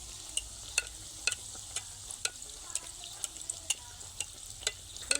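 Fish-stuffed luchi deep-frying in hot oil as oil is splashed over the top, a quiet bubbling hiss broken by a string of small crisp pops and spatters at irregular intervals.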